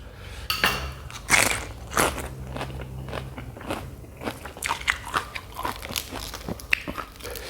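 Crunchy biting and wet chewing while eating fermented fish chili paste, with a series of close, irregular crackling bites and scrapes, heard with no talk.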